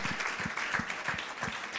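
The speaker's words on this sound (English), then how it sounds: "Another warm round of applause for Tinapi" Warm applause from a symposium audience for a speaker at a children's day event, a steady dense patter of many hands held at moderate level for under two seconds.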